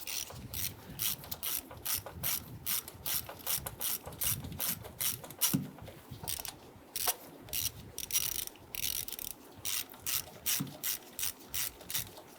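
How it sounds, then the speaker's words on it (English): A hand ratchet with a 7mm socket on an extension backs out the ignition coil bolts on a 1994-2004 Ford Mustang 3.8, giving rapid, close, steady clicking that continues throughout. "We're going to use a 7mm socket with our extension."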